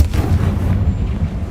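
A Confringo blasting spell in Hogwarts Legacy lands with a loud, rumbling explosive boom that fills the moment and fades with a low roar.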